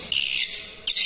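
A swiftlet call plays through an amplifier speaker in mono as two bright, buzzy chirps, one long and one cut short, with a brief pause between them.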